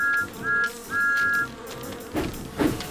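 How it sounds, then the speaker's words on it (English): Cartoon bees buzz around a flower bed beside a flatbed of beehives, a thin high drone swelling and cutting off in three short bursts, then giving way to other rustling sounds. "The bees were still buzzing"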